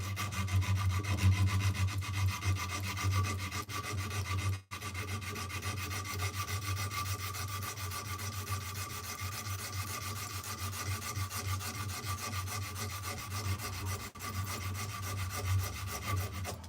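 Continuous rhythmic rasping of a knife blade being sanded and shaped by hand with abrasive grit, close and steady over a low hum, with a brief pause partway through.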